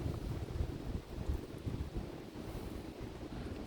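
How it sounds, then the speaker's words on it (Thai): Strong wind gusting through a forest, a steady dense roar with rumbling buffeting close on the microphone, continuous throughout without talk. "โอ้ลมแรง"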